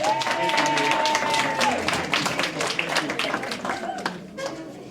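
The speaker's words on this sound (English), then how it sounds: "Y'all go down there, give her a nice round of applause." Attendees at a neighborhood association general meeting give a round of applause, a crowd of hands clapping loudly at first then thinning and tapering off, with a sustained tone and some voices mixed in.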